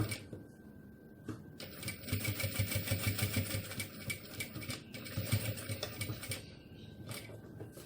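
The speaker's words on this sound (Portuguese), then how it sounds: "vou prosseguir com a minha costura" A sewing machine stitches fabric for a small car trash bag, its rapid mechanical chatter steady and fairly close, pausing briefly near the start and again toward the end.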